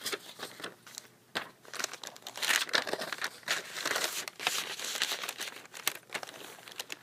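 Paper is crumpled and crinkled while being pushed into an Arc planner, a close, quiet run of irregular crackling and rustling bursts with no talking.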